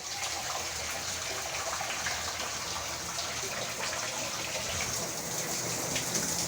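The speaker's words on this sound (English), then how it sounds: "Now this is a shower he put on." A newly installed shower sprays water wildly across a room, spattering the ceiling, walls and toilet in a dense, steady close-up hiss and splash that never lets up, with no voices.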